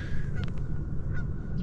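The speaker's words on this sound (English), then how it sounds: "Nobody's more excited about that than that goose over there that won't shut the heck up." A goose honks repeatedly nearby at a lake, a few sharp calls standing out over steady low outdoor rumble and wind.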